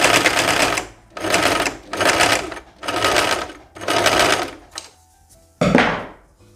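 A sewing machine stitches the seam of a shirt dress with a collar and pocket, running in five steady buzzing bursts separated by short pauses, loud and close, followed by one brief final burst.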